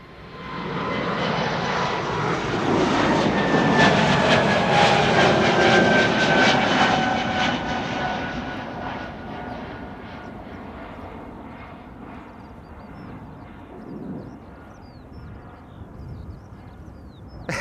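Jet aircraft departing Amsterdam Schiphol, engine roar swelling loud with a high whine during the first seconds, then steadily fading as it climbs away, leaving a softer distant rumble.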